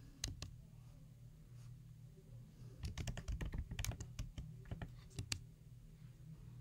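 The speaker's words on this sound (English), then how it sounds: "then you can type your name" Typing on a computer keyboard while entering a name during account setup, with scattered key clicks early on, then a denser burst of rapid keystrokes in the middle that trails off into a few final taps.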